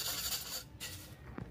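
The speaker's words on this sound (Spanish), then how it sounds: "Se le pasa la lija" Sandpaper rubbed along the cut edges of a glass piece, giving a short, close, raspy scraping burst followed by a lighter stroke, with no voices.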